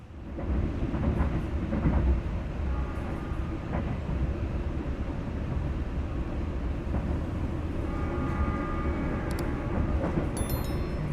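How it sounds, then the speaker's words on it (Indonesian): A train on the line from Solo to Yogyakarta rumbles steadily along the tracks, a loud, continuous low roar with faint clicks and squeals of wheels and rails. "Jalur kereta api dari arah Solo menuju ke Yogyakarta itu emang benar-benar berisik banget"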